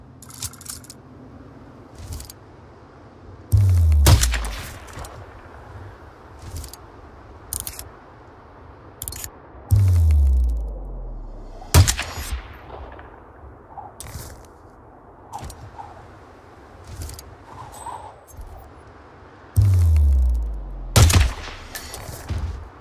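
Sniper rifle gunshots in the Hitman 2 video game, three loud booming reports spaced several seconds apart, each with a deep rumbling tail and sharp clicks between them.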